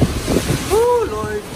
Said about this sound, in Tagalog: grabe na yung hangin.